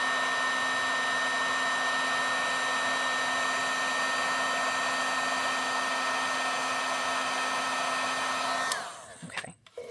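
A heat tool melting embossing powder on a card blows a steady, loud whirring hum with a constant tone for most of the stretch, then cuts off abruptly near the end, leaving brief handling rustles.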